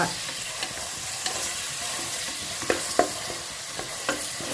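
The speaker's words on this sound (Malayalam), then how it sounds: "ഞാനിതാ നെയ്യാണ് ഇട്ടത്, നല്ല നെയ്യാണ് ഇട്ടത്. നമുക്കൊന്ന് നല്ലോണം വഴറ്റിയെടുക്കുക." Ingredients sauté in ghee in a pan with a steady, close sizzle, broken by several sharp knocks and scrapes of a spoon stirring, and no speech.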